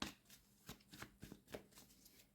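Tarot cards are shuffled by hand, giving a quiet series of soft papery riffles and taps in short, uneven bursts with no talking.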